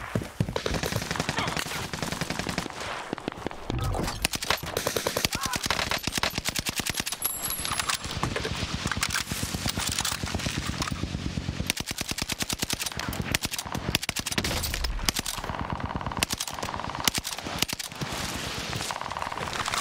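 Gunfire in Call of Duty Warzone on the Fortune's Keep map, with rapid automatic bursts and scattered shots crackling almost continuously, partly near and partly distant.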